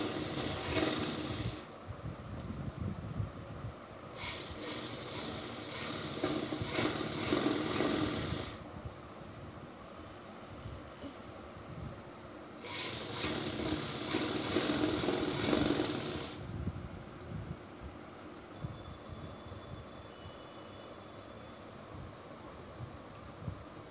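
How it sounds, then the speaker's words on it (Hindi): Sewing machine double-stitching the belt of a salwar, running in three bursts of steady, fast mechanical whirring separated by short pauses, close and fairly loud with no talk. "हम बेल्ट पर डबल सिलाई छेड़ देंगे।"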